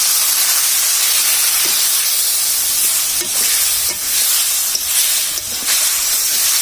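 Water hits a hot pan of spice-fried vegetables for a golsa fish curry, making a loud, continuous hiss of steam and sizzle with a few stirring scrapes.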